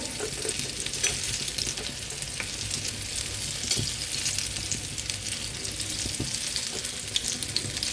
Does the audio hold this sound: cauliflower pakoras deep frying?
yes